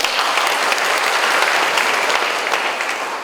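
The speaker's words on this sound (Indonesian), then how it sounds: "Tepuk tangan dulu" An audience claps steadily together in a dense, even burst of applause that holds at a strong level throughout.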